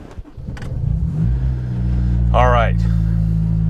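Supercharged Honda S2000 CR with Kraftwerks kit pulling away, engine droning low and steady, then a rising rev sweep before settling; someone speaks briefly at the start.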